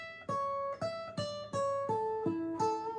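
A short guitar riff of plucked notes in a steady rhythm, each note ringing briefly before the next, quiet and alone with no voices.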